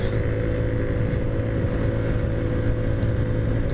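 Taotao Zummer moped engine accelerating on the ride home, a steady droning hum with a constant low tone and wind rush throughout, close and loud, no pauses or talk.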